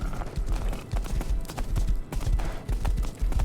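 Hoofbeats of a horse galloping in the survival video game Rust, a fast, loud and steady clip-clop rhythm running throughout, with no talk over it.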